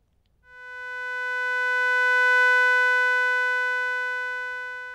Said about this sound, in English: we have a sawtooth wave with a frequency input sent through a bandpass filter with controls for center frequency and reciprocal quality